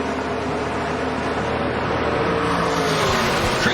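NASCAR trucks racing at Kansas, a dense continuous engine roar from a pack of race trucks at full throttle, loud and steady with a slight rise toward the end.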